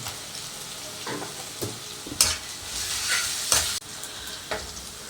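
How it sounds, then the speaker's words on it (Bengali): Garlic and ginger paste sizzles in hot oil while a spoon stirs and scrapes the pan in several sharp strokes, the frying hiss continuous underneath. "আদা রসুন দিয়ে এক মিনিট ভাজার পর"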